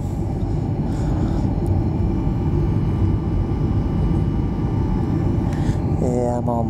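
Steady airliner cabin drone during the descent into Austin, Texas on a flight from Cancun, a constant low engine and airflow roar, with a brief tonal chime or beep near the end.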